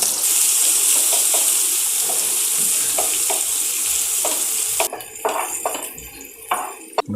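Onions fry in oil on a hot iron tawa for mutton dosa, giving a loud, steady sizzle that drops suddenly near the end, leaving a quieter hiss with a few sharp clicks and taps.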